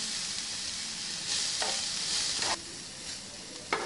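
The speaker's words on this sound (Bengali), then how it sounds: "আমাদের নারকেল ভাজাটা এখন প্রায় হয়ে এসেছে" Grated coconut fries with sugar in a pan for a semolina cake pitha, giving a continuous close sizzle broken by a few short stirring scrapes, with no speech.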